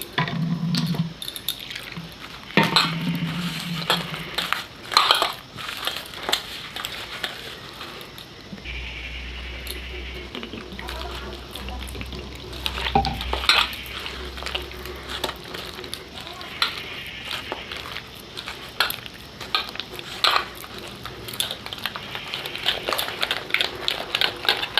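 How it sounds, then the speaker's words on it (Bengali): A thick batter is mixed with a little water in a bowl for a children's breakfast dish, giving steady wet stirring and scraping with occasional clinks against the bowl, continuing through the whole stretch. "তো আগে আমি অল্প করে জল দিয়ে একটু মোটা ব্যাটার একটা বানিয়ে নেব কালারটা দেওয়ার জন্য"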